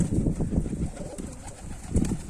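Pigeons cooing on a rooftop loft, low soft throaty coos repeating in irregular bursts, close by, with faint shuffling and a steady background hiss.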